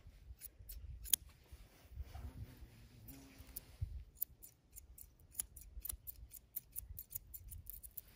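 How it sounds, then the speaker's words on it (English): Blunt grooming scissors trim the bulky hair on a doodle's big ears, a steady run of soft, close snips repeating in quick rhythm with no talk. "I'm gonna take my blunt scissors, and this is a pretty big bulk right here"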